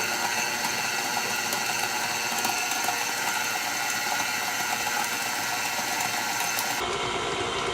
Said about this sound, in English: So we're going to go ahead and start creaming the butter first.